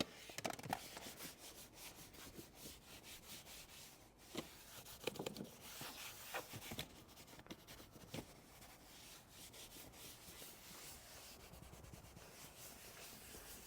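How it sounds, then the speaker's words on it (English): A scrubbing brush works across the leather seat of an Infiniti QX80, making soft, quiet, continuous rubbing and scratchy strokes close by, with occasional louder scuffs and no talking. "going to clean the leather once again. Use the Ninja scrubber."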